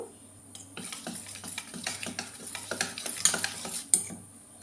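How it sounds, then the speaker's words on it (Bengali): Jalebi batter is mixed with turmeric powder in a bowl, with quick, rhythmic stirring strokes and light utensil clinks close by. A couple of sharper taps come near the end, and no one speaks. "সামান্য হলুদ গুঁড়া নিয়ে দিয়ে মিশিয়ে নেব"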